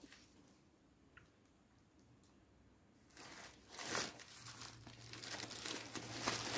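A tripod is unpacked from its plastic cover inside a bag, with soft crinkling and rustling that grows louder and busier halfway through, close to the microphone, and no talking.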